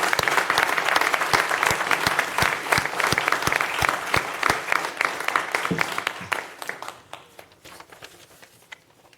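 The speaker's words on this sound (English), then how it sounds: "Let us give an applause for our Blindness Awareness Month." A city council chamber audience applauds after a Blindness Awareness Month proclamation, many hands clapping loudly and briskly, then thinning out into a few scattered, fading claps near the end.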